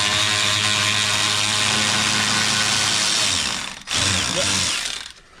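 Ratchet wrench clicking steadily while bolts come off a Dodge Dakota R/T engine during a water pump and valve cover job, a continuous close mechanical whir with a brief pause near the end.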